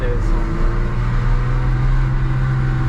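Engine of a BMW valued at over 500,000 euros idling and beginning to climb in revs, a loud steady low drone filling the clip with no voices.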